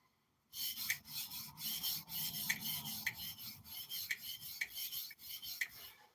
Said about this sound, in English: what I'm doing here, of course, is the initial sharpening